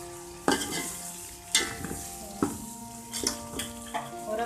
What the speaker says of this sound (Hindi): प्याज को हम इतना ही ब्राउन करेंगे, इससे ज़्यादा नहीं करेंगे